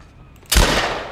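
A single loud gunshot goes off in The Last of Us video game, a sudden sharp blast after a quiet moment, followed by a lingering echoing tail.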